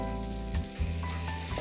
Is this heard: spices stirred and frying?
yes